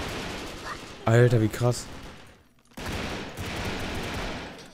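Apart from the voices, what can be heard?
three-round burst weapon fire in Brick Force video game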